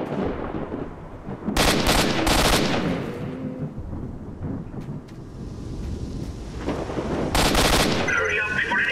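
Gunfire in S.T.A.L.K.E.R.: Shadow of Chernobyl: loud, close bursts of rapid shots come in two clusters, with a rumbling battle ambience and sporadic distant shots between them.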